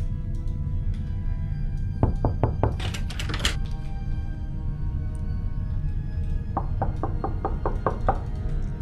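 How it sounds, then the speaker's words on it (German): Knocking on a door in the indie horror game Mannekin: two clear bursts of rapid wooden knocks, the first a quick series with a heavier rattle, the second a steady run of about eight raps, over low background hum. "Schließ doch auf, du sollst nicht klopfen"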